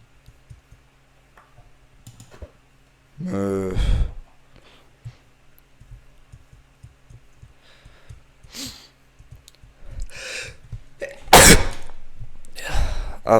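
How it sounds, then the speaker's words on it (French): A single loud sneeze bursts out early during Minecraft play, followed by quiet clicks, sighs and brief rustling noises. "désolé pour l'éternuement"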